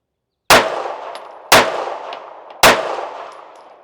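Three sharp pistol shots of Winchester 147 grain rounds from a carry gun, loud and close, about a second apart, each with a short ringing decay and no talking.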